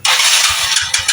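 Yamaha Mio Sporty motorcycle with a carburetor fault, loud engine noise right after starting, a steady broadband roar with small rhythmic surges like uneven revving, close by with no talk.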